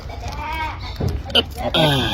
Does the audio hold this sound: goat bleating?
yes